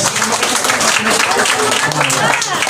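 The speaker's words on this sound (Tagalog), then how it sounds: "Pwede ba isang malakas na palakpak lang para kay Jesus?" Loud applause from a church congregation for Jesus, dense steady clapping filling the whole stretch with crowd noise mixed in.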